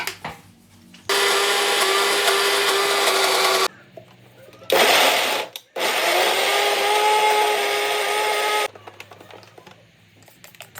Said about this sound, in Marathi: बारीक करून घ्यायचा लसूण चांगला मिक्सरमध्ये.